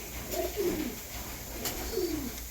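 A male pigeon kept in a loft gives soft, low cooing, two short rolling coos about a second and a half apart, fairly faint against a steady background hiss.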